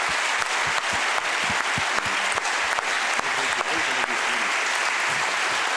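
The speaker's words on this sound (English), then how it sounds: "I think it's applause worthy" Audience applause at a makeathon's final pitches, a dense steady clapping from a crowd sustained for several seconds, loud and close.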